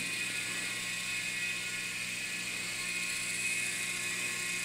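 A small battery-powered RC helicopter hovers close by at night after locking up a church, its steady high-pitched rotor whir and motor whine running continuously and unbroken.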